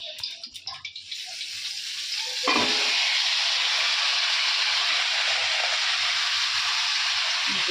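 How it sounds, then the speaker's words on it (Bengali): Chicken goes into a hot pan with already fried potatoes and a loud, steady sizzle breaks out. A few clatters come first, and the frying then runs continuously. "এখন আমি চিকেনটা বসাবো তার জন্য আলুটা ভেজে নিয়েছি তো বসিয়ে দিই"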